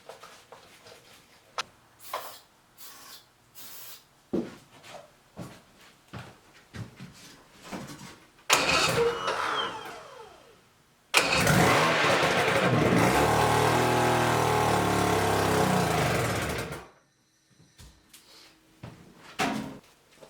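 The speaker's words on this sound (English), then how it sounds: "let's just start the motor, see if it actually starts" An outboard boat motor with clogged carburetors is cranked over on starter fluid, catching into a loud, steady running roar for several seconds before cutting off, amid clanks and handling noises.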